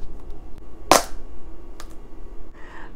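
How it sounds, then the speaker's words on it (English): A sharp knife breaks through a hard buttercup squash to halve it, one loud crisp crack near the start, followed by faint small knocks and quiet handling. "Slice the squash in half."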